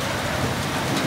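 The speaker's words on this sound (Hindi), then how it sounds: "मुल्क भर में मौसम सरमा की पहली बारिश, बादल खूब गरजे भी और बरसे भी।" Steady rain falling in the first rain of the winter season, with thunder, a constant dense patter on surfaces heard alone without any talk.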